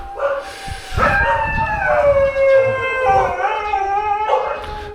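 Several guard dogs howl together in long, rising and falling wails with occasional barks mixed in, loud and near, the chorus continuing without a break.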